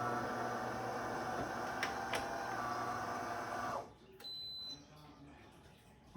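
A DeLonghi Magnifica EVO espresso machine running with a loud, steady mechanical whir and hum, two short clicks partway through, then it cuts off abruptly, leaving a brief quiet tone and a soft beep.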